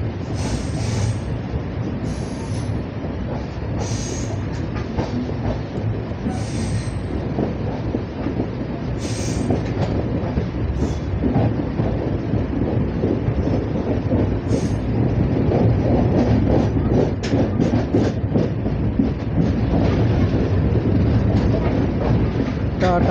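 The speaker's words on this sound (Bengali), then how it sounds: "পুরো পাথর স্টেশন ছেড়ে চলে যাচ্ছি।" Passenger train on the Dibrugarh to New Coochbehar route pulling out of a station after a two-minute halt, heard from on board as a loud, steady rumble with rhythmic wheel clatter and faint squeals building over time.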